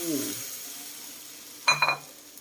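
Food sizzles in a pan with a steady hiss while making chicken rice, followed by a couple of brief clanks of a utensil against the pan.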